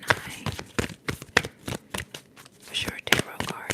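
Tarot cards shuffled by hand in a quiet close-up setting, a run of crisp riffling and slapping bursts in uneven rhythm, with soft whispering in between.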